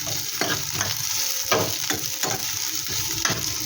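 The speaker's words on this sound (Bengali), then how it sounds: "পেঁয়াজটা একটু সামান্য একটু নাড়াচাড়া করে নিন" Chopped onion stirred and fried in a pan, a steady close sizzle broken by repeated scraping strokes of a spatula at an uneven rhythm.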